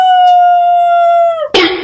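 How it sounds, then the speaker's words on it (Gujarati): A dog's howl in a rural Gujarati comedy skit: one long, steady, tonal wail that bends downward at the end, then is cut off by a sudden rough burst of noise. "એ ગોકુળિયા કે કૂતરો રોયો બોય"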